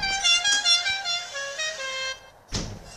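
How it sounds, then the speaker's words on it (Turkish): Horn of an old Tofaş car honking in a long, multi-tone blast that wavers for about two seconds, followed after a short gap by a second burst, loud and close. "Şunun kornasına bakın."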